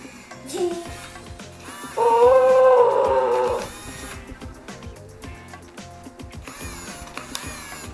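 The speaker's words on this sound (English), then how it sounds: "Whoa, he growled at me." A WowWee Alive interactive white tiger cub toy gives one loud electronic growl lasting about two seconds, set among motorized whirring and clicking from the toy.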